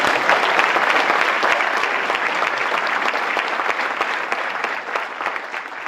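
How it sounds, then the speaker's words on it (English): A luncheon audience applauds steadily and evenly, a dense wash of many hands clapping at once that holds its level and eases slightly near the end. "That deserves a clap right there."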